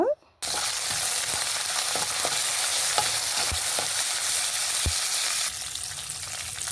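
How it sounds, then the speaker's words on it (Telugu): Curry leaves fry in hot oil for mango rice, giving a loud, dense, continuous sizzle close by, with scattered clicks from a stirring spoon against the pan. "కరివేపాకు వేసుకొని బాగా వేయించుకున్న తర్వాత"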